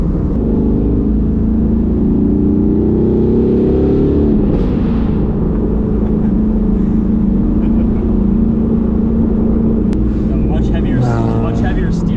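Engine of a 400-horsepower Mazda Miata pulling hard on a canyon road, a loud sustained drone with rising tones as it accelerates through gears, heard from inside the car with people talking over it.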